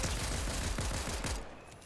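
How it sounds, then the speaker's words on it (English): Pistol shots crack out in rapid overlapping bursts during a video game firefight, dense and continuous before tapering off near the end. "That was a lot of pistols."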